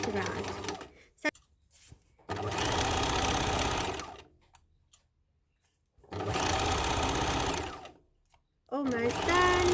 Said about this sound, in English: I am now just going to sew it right around.